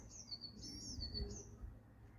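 Two young orphaned carrier pigeons give faint, thin chirping calls, a few short high squeaks close by against a quiet, low background hum.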